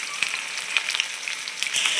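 Chicken pieces fry in a hot pan with a bright, crackling sizzle, scattered pops and spits over a steady hiss, close up and with no speech.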